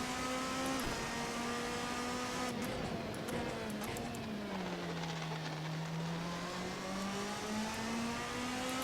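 Ferrari 458 GT2 race car at the Spa circuit, its engine droning loud and steady throughout, pitch sagging as it eases off and then climbing again under acceleration, with no voices.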